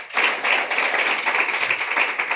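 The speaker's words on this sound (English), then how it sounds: "let's give her a round of applause" A live audience at a talk breaks into loud, dense, sustained clapping that starts abruptly and holds steady throughout, with no talking.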